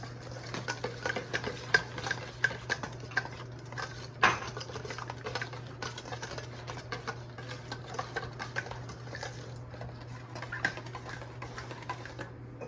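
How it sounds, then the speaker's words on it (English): Crab cake ingredients being mixed in a bowl: faint, close clinks and scrapes of a utensil against the bowl repeat in an irregular rhythm over a low steady hum, with one sharper knock partway through. "I'm going to give this a quick blend"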